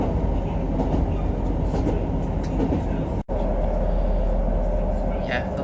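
Train running on rails, a loud continuous low rumble with a brief break partway through, people talking over it.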